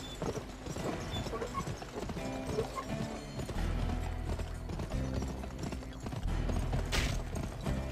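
Hoofbeats of horses galloping in the Western shooter game GUN, a steady clip-clop rhythm running the whole time under game music and ambient score, with no talk.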